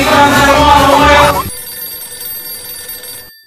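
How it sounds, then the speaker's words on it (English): A telephone bell rings loudly in a short trill over a cartoon music bed, then cuts to near silence with a faint lingering tone. "It is the phone."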